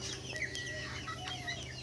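Desi chickens cluck and chatter nearby, a busy flock making short overlapping calls over a low steady hum.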